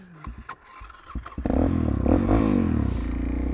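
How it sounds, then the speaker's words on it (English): Supermoto motorcycle nearby: a few clunks and scrapes, then its single-cylinder engine bursts into loud, rough revving that rises and holds steady up close. "some doofus on a supermoto is going to ruin the peace and quiet"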